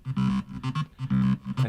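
Synth chords pump rhythmically in swells under a volume-shaper automation that mimics sidechain compression, rising and dipping in repeated bursts with no drums or voices.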